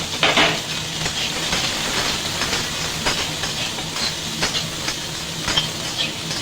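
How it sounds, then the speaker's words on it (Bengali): Chopped beans and carrots are stir-fried in a pan with garlic and ginger for chicken momo, giving a continuous sizzle broken by several sharp scraping stirs of the utensil, close and without talk. "সবজিটা বেশি ভাজা যাবে না,"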